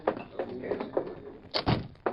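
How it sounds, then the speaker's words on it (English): An office door in a radio drama opens at the back of a cafe, with a couple of close, solid knocks and thuds from the latch and swing after soft shuffling movement. "opened the door to Weller's office"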